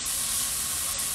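Carrots, onions and bean sprouts sauté in olive oil in a pan, a steady, bright hiss and sizzle that holds evenly throughout without voices.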